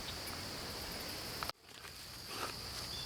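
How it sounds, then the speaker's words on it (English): Crickets chirp in a steady, faint drone on a quiet autumn morning at a nature camping spot, with soft background hiss and a brief dip in sound midway. "all my ears can hear are the crickets and birds chirping"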